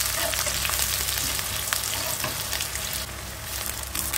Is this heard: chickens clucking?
no